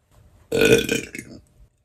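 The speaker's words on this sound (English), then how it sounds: "I think that was the biggest burp I've had." A single loud, throaty burp close to the microphone, lasting nearly a second and trailing off into a softer rumble, with no talk over it.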